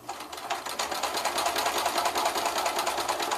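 Sewing machine stitching fabric quilt squares in a continuous run, a fast even mechanical chatter close by with no pauses.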